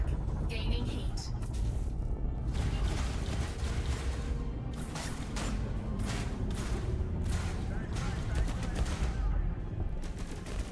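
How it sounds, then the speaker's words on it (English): Dense space-combat weapon fire from Elite Dangerous, rapid bursts of shots and impacts running steadily throughout over a low engine rumble, with a voice talking over it. "Yeah, that guy's shooting."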